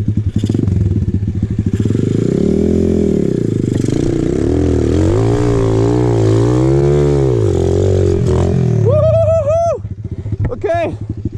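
An Apollo RFZ pit bike engine buzzes loudly and close on a trail ride, rising and falling in pitch through throttle bursts, then a rider's voice cuts in near the end.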